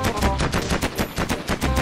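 Rapid machine gun fire in a Minecraft-style shooting mini game, a loud, close stream of evenly spaced shots rattling without pause.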